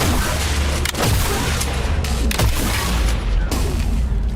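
Video game gunfire pours out as a dense, loud barrage of booming shots and blasts, with sharp reports repeating every half second or so over a heavy continuous rumble.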